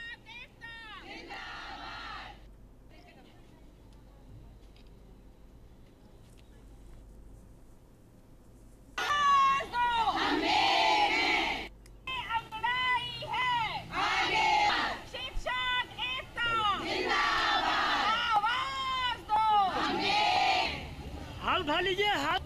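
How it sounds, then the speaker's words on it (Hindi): Women teachers at a protest outside an education office shout slogans together in loud chanted bursts that repeat over several seconds, a crowd of voices close by following quieter talk at the start. "प्रदर्शन के दौरान शिक्षिकाएं हाथ में बैनर लेकर जमकर नारेबाजी की और अपनी पीड़ा को स्पष्ट रूप से सामने रखा।"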